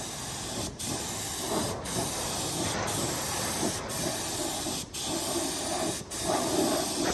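Spray gun misting paint onto a BMW E36 body panel, a steady loud hiss broken by short pauses roughly every second as the trigger is released and pulled again.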